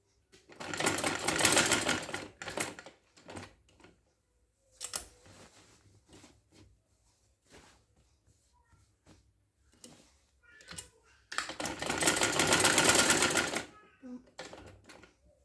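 A sewing machine stitches a neckline in two loud, fast bursts of whirring, with quiet handling clicks and fabric rustle in the pause between them, close up.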